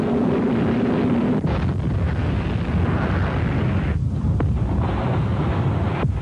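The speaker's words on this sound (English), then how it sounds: "The Exocet missile rips into the hull and the ship bursts into flames." An Exocet missile strikes the hull of the British warship Sheffield and explodes. A loud, continuous broadband roar and rumble lasts the whole stretch with no clear pauses.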